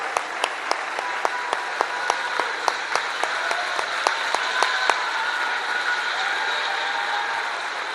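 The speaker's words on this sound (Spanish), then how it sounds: "A ver, levántense para que les demos un fuerte aplauso." A crowd at a public event in Santiago Tulantepec, Hidalgo, applauds workers of a door-to-door health program with steady, broad clapping. A few louder, sharper claps stand out in a regular beat over the first half.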